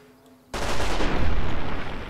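Gunfire from a rifle in Fallout New Vegas aimed at a Rad Scorpion: after half a second of near silence, a loud, dense burst of rapid shots rings out continuously to the end.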